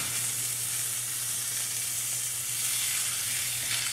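Freshly flipped steak sizzles in a hot pan, a constant close frying hiss with a low hum beneath, steady throughout and without talk.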